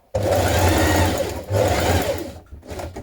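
A domestic sewing machine stitching a dress seam around curved edges, a loud steady motor whir with rapid needle chatter in two long runs and a short final burst, close and alone.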